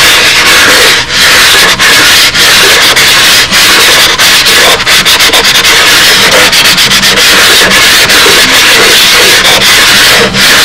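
Sandpaper rubs a model aircraft part in continuous loud, close scratchy strokes with brief rhythmic pauses, no talking.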